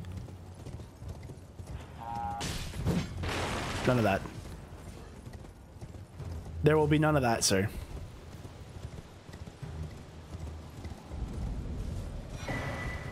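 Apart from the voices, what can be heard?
horse galloping in video game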